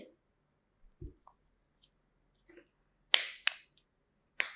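A few soft clicks and taps followed by three sharp, crisp snaps of a battery clicking firmly into a battery holder for a Pinoo robot kit, close and isolated.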